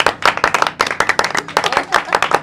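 An audience at a children's comedy contest in Faisalabad claps loud, sharp and close-up in quick, uneven bursts, with no one speaking over it.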